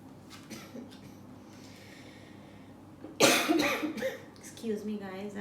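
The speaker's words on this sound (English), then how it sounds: "I'm having coughs" A single loud, harsh cough bursts out close by, followed by some throat clearing and breathy rasps. Quiet talk comes before it.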